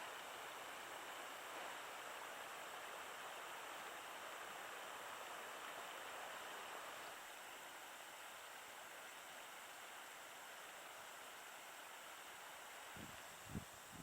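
Seep Creek in the Willmore Wilderness backcountry flowing steadily, a constant broadband rush of water heard alone, slightly quieter in the second half, with a few faint knocks near the end.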